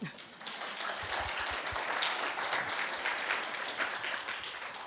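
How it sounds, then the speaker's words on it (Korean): A church congregation claps steadily for several seconds during a Sunday service, a dense and sustained wave of applause filling a room with no speech on top. "감사의 박수를 한번"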